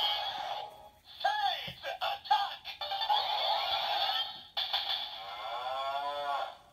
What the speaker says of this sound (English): Your whip sounds and then the mooing.